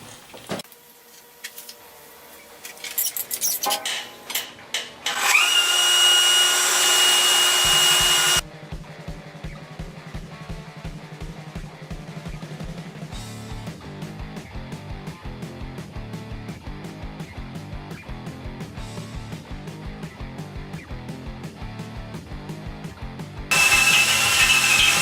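A power drill fitted with a Rapiddrill attachment bores a hole, opening with short bursts. A loud, steady high whine follows, then a long, even, rapid ratcheting chatter that runs on close up before the whine returns at the end.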